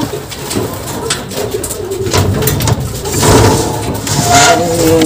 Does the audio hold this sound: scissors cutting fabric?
no